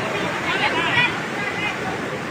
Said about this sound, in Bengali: দেখতে পাচ্ছেন কিভাবে পানি বের হয়ে যাচ্ছে।